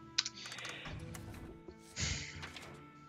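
Keys clatter on a computer keyboard in short, uneven bursts of typing during a Hearthstone session, close and fairly quiet, with no talking.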